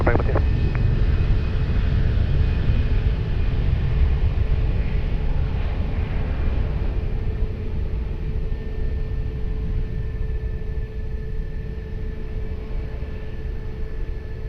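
Airliner taking off from runway 20 at Lisbon Airport, a steady loud rumbling jet roar that holds throughout with a faint tonal whine above it, under a broad wash of engine noise.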